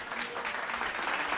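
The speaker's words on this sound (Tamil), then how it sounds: "கைத்தட்டுங்க" A church congregation claps together during a Tamil Christian service, a dense and steady roomful of hand claps that holds at an even, fairly loud level throughout.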